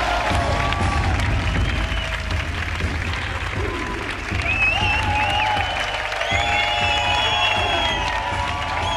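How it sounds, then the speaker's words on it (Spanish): A late-night television studio audience claps and cheers to welcome a performer before an exhibition jump on a memory-foam mattress. The applause is loud and steady throughout, with whoops and cries rising over it. "Un aplauso para Nacho Delgado."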